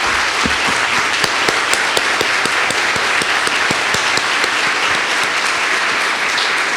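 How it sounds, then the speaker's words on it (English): Sustained applause from an awards-gala audience honoring state Senate colleagues, a steady dense wash of many hands clapping with a few sharper claps standing out. "I'm hoping that they can all stand up and we can give them a round of applause."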